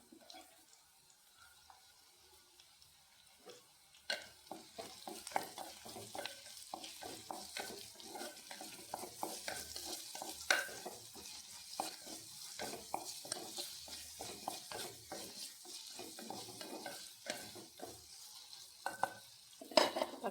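Tomatoes go into a pan for a roasted gram curry and fry quietly while being stirred, giving faint sizzling under frequent soft scraping and clatter that grows busier after the first few seconds.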